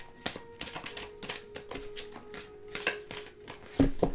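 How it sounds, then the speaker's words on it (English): Oracle cards are shuffled by hand up close, giving quiet, rapid papery taps and riffles in uneven bursts with no voices. "So we're just going to go ahead and shuffle these up a bit."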